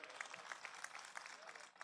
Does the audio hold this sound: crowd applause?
yes